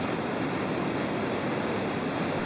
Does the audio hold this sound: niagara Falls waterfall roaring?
yes